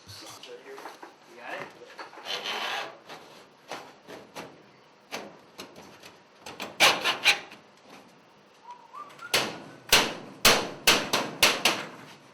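Sheet metal S drives are hammered onto a duct transition, with sharp metallic taps and clangs in quick bursts, especially dense near the end, between softer sliding and scraping handling noises close by.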